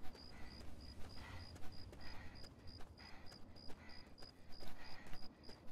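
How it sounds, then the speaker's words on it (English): Crickets chirp in the Fallout 3 video game, a fast, regular, high-pitched series of short pulses that repeats steadily over a quiet, low background rumble. "Wow, that's some really hyperactive crickets."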